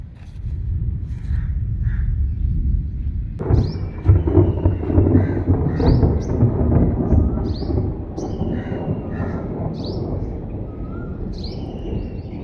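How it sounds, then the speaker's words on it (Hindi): Deep, loud thunder rumbles on and on, with birds chirping faintly in the background. "देखिए कैसे बादल गरज रहे हैं।"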